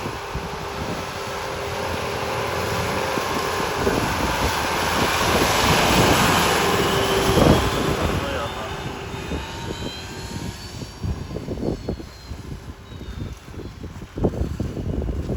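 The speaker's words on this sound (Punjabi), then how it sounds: "ਉਹ ਜਾਂਦਾ ਇੱਕ ਉਹ ਜਾਂਦਾ ਟਰੈਕਟਰ ਆ" A tractor clearing snow in Canada drones loudly as it passes nearby, its heavy engine rumble swelling and then fading, with wind noise throughout.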